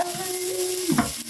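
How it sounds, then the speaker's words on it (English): Food fries in a pan with a steady broad sizzle, close and moderately loud, while a faint tonal hum runs underneath and a brief stir-like shift comes near the end. "Okay, so we fry."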